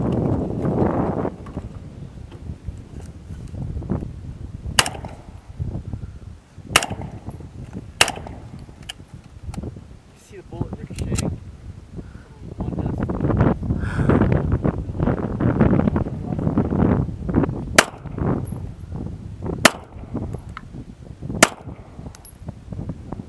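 Sig Sauer P226 pistol shots fired at a target 140 yards away outdoors, a dozen or so sharp isolated cracks spaced irregularly over steady wind buffeting the microphone, fairly loud and close.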